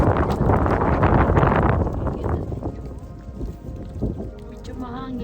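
Gusty wind buffets the microphone in loud rumbling bursts while hiking at a volcanic crater in the Eifel, easing off midway, with faint voices and a few sounds in the background.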